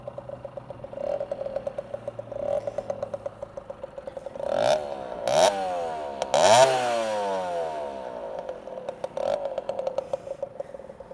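A 1973 Yamaha FS1E moped's small two-stroke engine idles with a rapid, putting beat, then revs sharply up and down a few times before settling back to a steady idle, close and loud.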